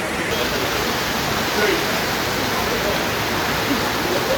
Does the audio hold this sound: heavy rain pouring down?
yes